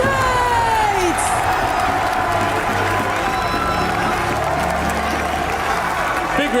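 An esports arena crowd at a VALORANT match cheers and applauds for a team, a loud, sustained roar of clapping and shouting that fills the hall without a break, with voices mixed in.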